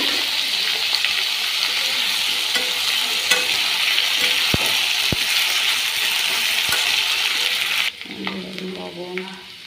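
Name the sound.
potatoes added to frying onion and garlic in pan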